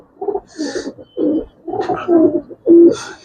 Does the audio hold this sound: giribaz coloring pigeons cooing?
yes